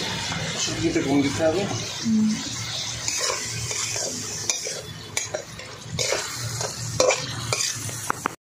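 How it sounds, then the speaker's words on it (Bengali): Prawns fry in a pan over a wood fire, giving a steady close sizzle broken by stirring scrapes and light utensil clinks, with faint voices in the background. "চিংড়ি মাছ ভাজা হয়ে গেছে।"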